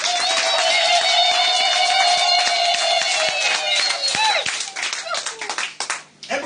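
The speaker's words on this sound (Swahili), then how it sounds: "Hebu nisikie sasa ya Kristo na vigelegele." At a Good Friday church service, the congregation claps and ululates for Christ. High, wavering trills ride over dense hand clapping, and the sound thins toward the end.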